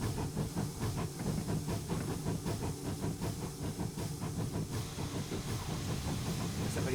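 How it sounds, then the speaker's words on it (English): Model steam locomotive, a Y14 with steam leaking from its cylinders, giving a steady soft hiss with a faint rhythmic chuffing pulse underneath, moderately quiet. "the cylinders leak a bit of steam, so I've tried to simulate that in this engine"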